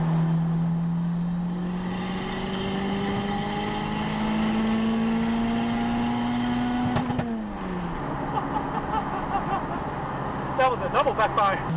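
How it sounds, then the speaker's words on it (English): A turbocharged Honda Civic engine drones and climbs steadily, then a sharp double backfire pops out as revs drop, followed by crackling bursts near the end; the engine is close and loud throughout. "That was a double backfire."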